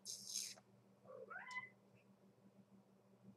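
A house cat meows once, loud and close, then gives a short, rising second call over a quiet, humming room.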